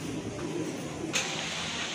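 Rajshahi Giribaj pigeons coo softly for a couple of seconds, a faint low murmur in a quiet space, with a brief sharp tick partway through.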